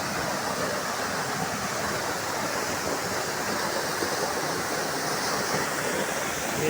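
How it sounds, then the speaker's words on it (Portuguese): Cachoeira do Saltão, a waterfall on the Rio das Pedras, roars as a steady, dense wash of falling water, close and constant throughout with no voices. "Essa é a Cachoeira do Saltão, pessoal."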